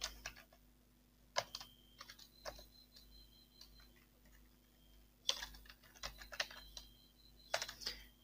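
Typing on a computer keyboard: quiet clusters of key clicks coming in short irregular bursts separated by pauses, close by, with a faint steady hum underneath and no voice.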